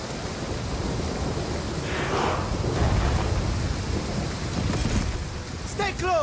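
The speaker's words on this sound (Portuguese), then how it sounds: "Tá uma chuva fodida." Heavy in-game rain pours as a steady broadband wash through a battle in Total War: Pharaoh, with a deep thunder rumble rising midway and swelling to a loud roll, while faint game effects chirp near the end.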